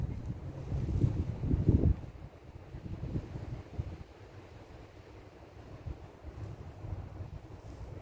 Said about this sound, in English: the wind does not help at this point